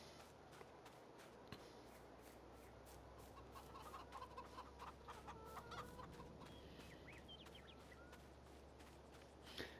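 Chickens cluck softly in a farm pen in Farming Simulator 22, with scattered clucks and small scratching noises over a steady low ambient hum, faint and fairly distant.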